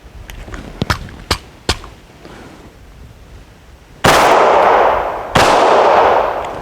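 Two loud, close Hi-Point C9 pistol shots at an outdoor range, spaced about a second apart, each followed by a long ringing decay, after several sharp clicks and small knocks from handling the gun.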